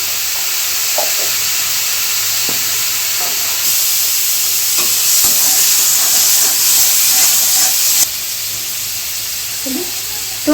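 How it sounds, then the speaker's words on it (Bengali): Chopped tomatoes and turmeric sautéing in a pan with a steady close hiss and sizzle, broken by occasional stirring scrapes and clinks; the frying noise steps louder partway through and settles again. "এবার কেটে রাখা টমেটোগুলো দিয়ে দিচ্ছি, ভালো করে কষিয়ে নিতে হবে।"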